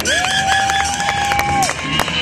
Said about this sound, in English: One-handed catch and a wave to the crowd. You guys give it up for Jason.